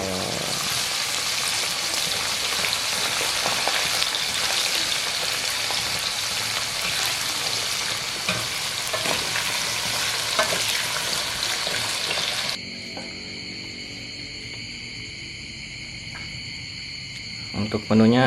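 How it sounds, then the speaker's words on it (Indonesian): Jengkol (dog fruit) frying in a pan, a steady loud sizzle and crackle running for about twelve seconds before dropping to a quieter hiss with faint tones. "Goreng jengkol."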